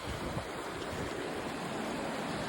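Ocean waves wash onto a beach in a continuous broadband rush of surf, fairly close and steady, with no talk over it.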